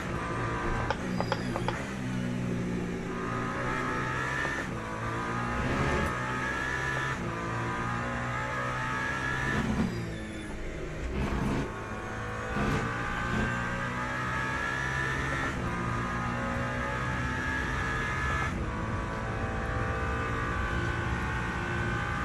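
Race car engines at Le Mans in the sim racing game Le Mans Ultimate: a steady layered mechanical drone with rising and falling engine tones and gear-change shifts, continuous throughout.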